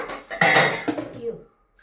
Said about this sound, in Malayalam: പാത്രം കഴുകട്ടെ കേട്ടോ.